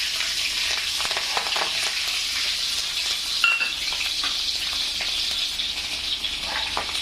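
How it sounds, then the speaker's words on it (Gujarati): Dried red chilli and green chillies sizzle steadily in hot oil for restaurant-style dal fry, a bright continuous crackle with occasional light clinks and stirring, no voices. "અને તતડવા દેશું આપણે તેલમાં"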